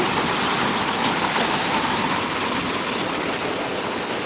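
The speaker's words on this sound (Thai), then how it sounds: "ข้างในบ้านก็ฝนตก ดูดิ" Steady, dense rushing of heavy rain or running water inside a flooded house, loud and close, with no pauses and no voices.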